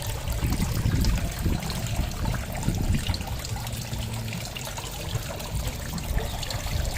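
Water flowing steadily into a tilapia fish pond on a farm, a loud continuous trickling and gushing stream heard up close without talk.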